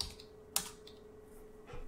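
Keystrokes on a computer keyboard while playing Wordle in TempleOS: a couple of sharp, close clicks, one near the middle and a softer one at the end, over a quiet steady hum.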